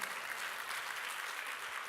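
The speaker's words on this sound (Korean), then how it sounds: "박수." A church congregation applauds during a sermon, a faint but dense and steady wash of clapping heard from a distance.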